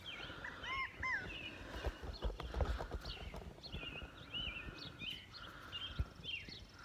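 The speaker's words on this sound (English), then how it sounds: "But listen to him, isn't he cute? Make the sound again, little bird." A small bird gives quick, repeated high chirps and short trills outdoors on a farm during hay-bale work, fairly close, over a background of low thumps and rustling.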